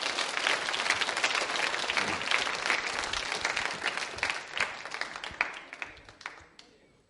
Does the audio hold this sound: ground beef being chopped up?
no